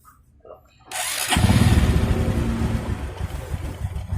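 Honda Supra X 125 motorcycle engine catching and settling into a loud, close, low idle during carburetor idle-screw adjustment, a sudden start after near silence followed by a steady throbbing putter.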